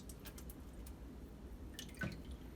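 Water drips and trickles softly as freshly developed Bolex H16 film on a spiral reel is rinsed, with a faint steady wash and one clearer drip near the end, no voices.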